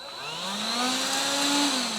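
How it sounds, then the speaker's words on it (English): An Electrolux cordless handheld vacuum cleaner motor spins up into a close, steady whine. Its pitch rises gradually before holding level, with no voices. "you can see that you now have this handheld vacuum cleaner"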